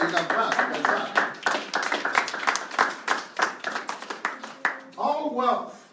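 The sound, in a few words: audience clapping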